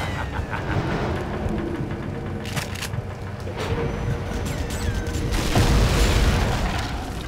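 Floorboards blowing apart in the video game BloodRayne 2, a dense, rumbling blast that swells and thunders through the whole stretch, loud and close with a deep boom building toward the end.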